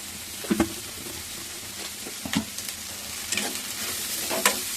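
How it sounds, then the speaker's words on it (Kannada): Corn lemon rice frying in a pan, a steady broadband sizzle with a few sharp spoon scrapes and stirring clatters scattered through, close and moderately loud, with no voices. "ಈಗ ಸ್ವಲ್ಪ ಫ್ರೈ ಮಾಡ್ಕೊಳ್ಳೋಣ"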